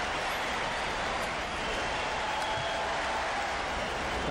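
Dense, steady crowd roar with applause and cheering at a 1996 US Open tennis second-round match, Agassi versus Paes, sustained and loud throughout with no pauses.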